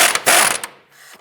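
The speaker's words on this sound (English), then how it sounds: "Using a 17mm socket, go ahead and remove this nut." A ratchet with a 17mm socket loosens a strut nut on a 2001-2005 Honda Civic, giving quick close-up bursts of clicking that ease off into a quieter final few clicks.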